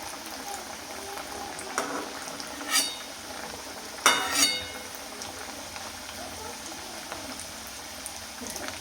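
A chapati snack frying in oil in a pan, a faint continuous bubbling sizzle with a few louder spatters and utensil clinks scattered through, heard close and fairly quiet.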